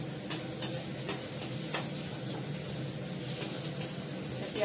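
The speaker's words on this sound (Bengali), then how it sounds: "পেঁয়াজটা ভাজা ভাজা হয়ে গেছে।" Onions frying in a pan at home, a continuous close sizzle with small crackles and intermittent scraping from stirring.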